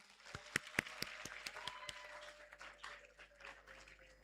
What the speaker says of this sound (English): This your applause doesn't reflect 6-7 years of hard work.